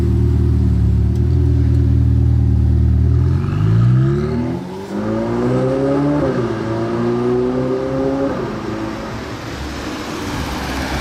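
A supercar engine revs hard, its deep droning note climbing steeply in pitch, then easing off and surging again over several seconds, loud and close with no voices.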